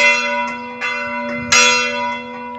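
The church bell of San Francesco in Tirrenia rings out in a full evening peal, loud and close, with several strong strikes at uneven intervals and a long ringing hum between them.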